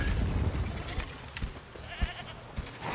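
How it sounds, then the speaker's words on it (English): Goat bleating in Witcher 3: The Wild Hunt, a few short, moderately loud cries that stand out from a steady game ambience, with no one talking. "from how it sounds like the goat's still alive"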